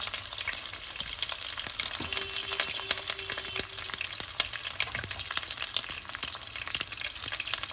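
Oil sizzles steadily in a pan as the first ingredients go in for a prawn curry, a dense crackling hiss broken by sharp pops and occasional stirring clicks, with no talking.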